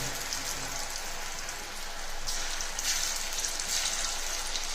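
Mushrooms deep-fry in hot oil, giving a dense, continuous crackling sizzle that swells slightly partway through, with no voices.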